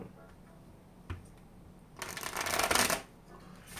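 Tarot cards are shuffled in one brisk, close riffle lasting about a second, preceded by a faint single tap in an otherwise quiet room.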